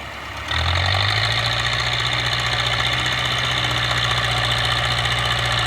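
A YUMZ tractor ploughs a wet, boggy field with a PLN plough and no differential lock, wheels slipping. Its engine kicks in after a quiet half second, then holds a loud, steady, heavy drone throughout, with no talk.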